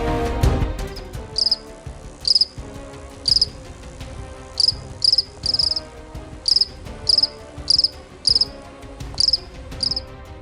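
Crickets chirp in short, regular bursts, about a dozen loud, bright trills spaced roughly half a second to a second apart, standing out clearly over a quieter background wash.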